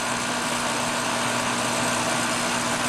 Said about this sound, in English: I'm pushing this oil pump prime button, and it should go